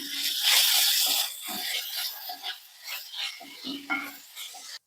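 Chopped potato and finely chopped tomato fry with onions in a pan, giving a bright steady sizzle with bursts of hissing and scraping stirs that rise and dip.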